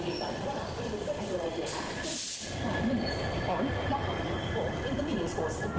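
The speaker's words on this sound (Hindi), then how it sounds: "हमारी ट्रेन आ चुकी है इसके डेस्टिनेशन फिरोज़पुर कैंट जंक्शन पर" A passenger train pulls into Firozpur Cantt Junction with a steady, loud rumble and rolling wheel noise that carries through the whole stretch, while voices murmur faintly underneath.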